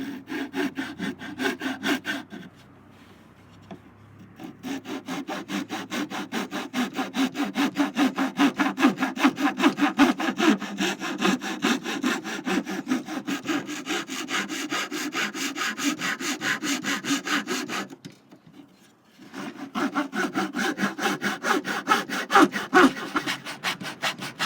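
A hand saw rasps cross grain through wood for coasters in long, steady back-and-forth strokes, pausing twice briefly before resuming its rhythmic cutting.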